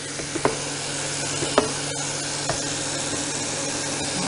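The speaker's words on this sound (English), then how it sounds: "Get some stirs." Water for a German pilsner brew is stirred toward the two-gallon mark, a steady soft swishing hiss broken by a few faint taps of the spoon against the vessel, with no talking.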